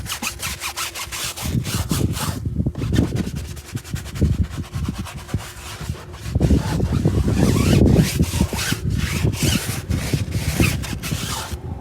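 A brush scrubs hard against a car tire and wheel on a 2019 Dodge Challenger SXT. The quick back-and-forth rasping strokes come close and loud, in bursts with brief pauses and no talking.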